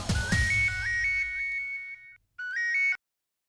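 A phone ringtone sounds before the call is answered, playing a bright, repeating electronic melody of short rising tones that stops briefly and then resumes for a final burst, loud and close with no talk.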